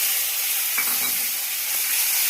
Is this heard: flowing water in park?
no